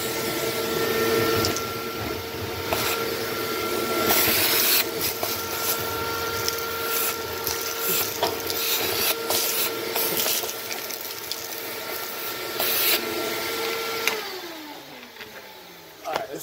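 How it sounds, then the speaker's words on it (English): A vacuum cleaner sucks up soot from a PP130 pellet stove chimney, a loud steady whooshing drone running throughout with small rattles and bumps, before the motor winds down near the end. "Let's vacuum that real quick."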